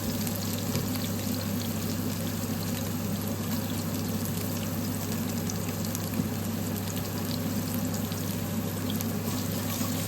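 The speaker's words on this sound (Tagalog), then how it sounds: "Garlic muna na may kasamang kaunting onion." Garlic and a little onion frying in a pan at home, a steady close crackling sizzle running evenly throughout with a low background hum.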